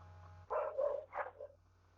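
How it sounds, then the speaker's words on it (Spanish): A small dog barks several quick times in a short burst, close and fairly clear, over faint room hum during an online pharmacology class. "Creo que es el perrito que quiere responder."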